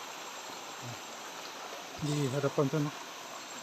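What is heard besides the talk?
mountain waterfall and stream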